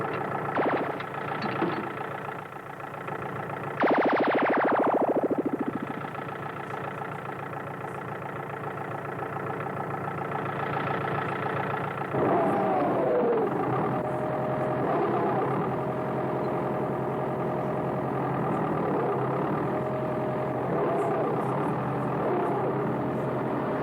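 A tractor engine labors steadily while pulling with its tow chain hitched above the rear axle, a continuous mid-pitched drone with a brief sharp rising whine early on and a rougher, strained roar later.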